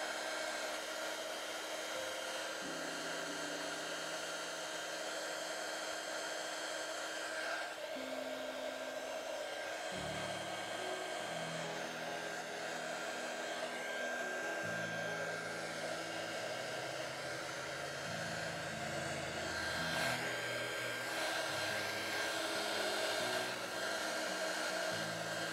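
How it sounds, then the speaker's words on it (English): A heater blows steady air across alcohol ink art on a window pane, a continuous close, loud whooshing hiss with slight shifts in pitch, running alone without talk. "And a heater."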